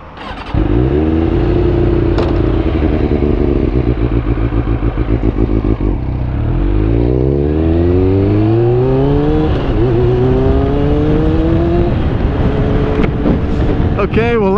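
A motorbike rides on a foggy road near Douglas, its engine loud and close, revving up and down through several gear changes with rising and falling pitch and wind rumble throughout.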